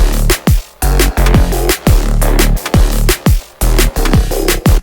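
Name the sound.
bass line processed with Kilohearts Filter Table and Shaper Table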